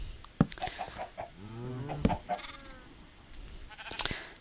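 Minecraft chickens clucking in a few short, faint calls scattered through a quiet game scene, mixed with soft game sounds and clicks, no talk.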